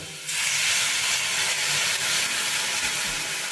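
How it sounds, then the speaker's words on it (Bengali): Water poured into a hot pan of sautéed flat beans (shim) bursts into a loud, steady steaming hiss and sizzle that starts abruptly and holds for several seconds, close up. "এটা কষানো হয়ে গেছে এবার আমি এর মধ্যে দিয়ে দেব জল"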